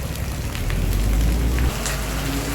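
Rainwater drips and patters from a roof just after a downpour in Bangkok, heard as a dense, steady wash of fine droplets over a low rumbling background. The low rumble drops away partway through.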